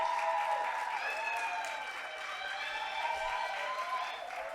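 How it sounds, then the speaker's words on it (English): Conference audience at an HIV and adolescence youth advocacy session applauds to welcome a speaker, steady moderate clapping mixed with faint tonal music or feedback lines that rise and fall beneath it. "A round of applause for Ndilo."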